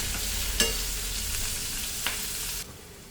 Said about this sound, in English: So here, see that you fry it nicely golden brown.